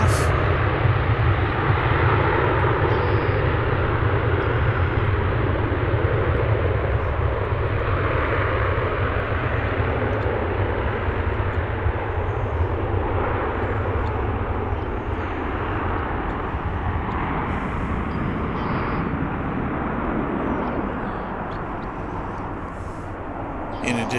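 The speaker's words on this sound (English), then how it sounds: "So we would anticipate a long rollout for this takeoff." Heavily fuel-laden airliner on a long takeoff roll at DFW International Airport, a continuous loud jet engine roar sustained throughout, fading slightly toward the end.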